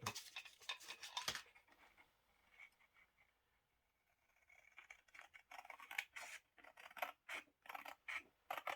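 Scissors trim paper for a handmade journal, producing a burst of quick, close snips, then a quiet pause, then another run of crisp cuts and paper rustling.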